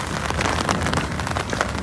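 Heavy rain pours steadily on a mountain hiking trail in the Carpathians, a dense, continuous hiss of drops close around the listener with no voices.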